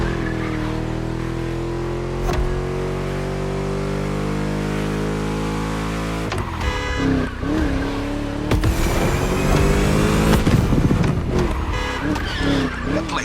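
A V8 muscle car engine in the video game The Crew Motorfest gives a deep, chunky rumble that rises through revs, with tire squeals and skids later as the car grows louder and rougher, close and prominent.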